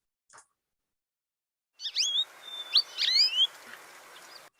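Short chirpy song of a small, brightly colored, talkative flocking songbird, a quick series of high whistled notes and tweets following a tiny faint call, fairly close and clear against a soft background hiss.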